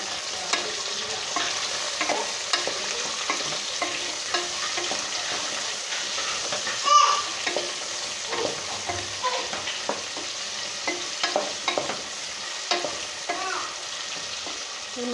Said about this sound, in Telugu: సో చూడండి, ఇది బాగా ఆయిల్లో మంచిగా ఫ్రై అవుతున్నాయి.